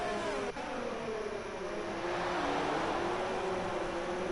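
Race cars accelerating in a PS4 racing game at the German Grand Prix, engines droning and whining steadily as they climb through the gears, a continuous, moderately loud roar with no voices over it.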